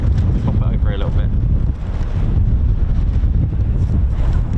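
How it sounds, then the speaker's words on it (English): Strong wind blows at RAF Lakenheath airfield, loud buffeting gusts roaring across the microphone with constant low rumble and no clear voices. "You can see how windy it is."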